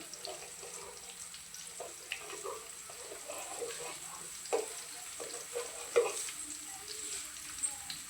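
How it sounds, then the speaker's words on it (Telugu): Onion pieces fry in oil for a village-style chicken curry, a soft, steady sizzle with light scraping and stirring taps scattered throughout, fairly quiet and close. "నూనెలో ఉల్లిపాయ ముక్కలు కొద్దిగా మాడే వరకు వేయించుకోవాలి"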